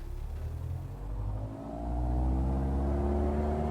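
A Van's RV-14 light aircraft engine in Microsoft Flight Simulator runs up steadily. A throaty droning hum climbs in pitch and loudness and then holds at a higher power setting.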